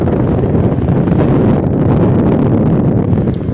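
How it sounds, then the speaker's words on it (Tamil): Strong coastal wind at the Nagapattinam lighthouse in Tamil Nadu buffets the microphone with a loud, continuous roaring rush that never lets up. "பாருங்கள் காற்று எப்படி அடிக்குதுன்னு பேசக்கூட முடியல"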